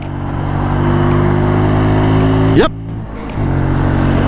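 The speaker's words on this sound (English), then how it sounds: "It is a proper motorcycle. I have 5 speeds, I have a clutch, I have normal brakes." Benelli Tornado Naked T125 motorcycle engine droning steadily and close, its pitch sliding up as revs climb, then cutting off abruptly before settling back to a lower idle-like hum.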